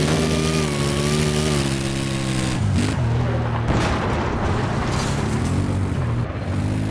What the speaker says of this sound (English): That tank just filled me full of shell.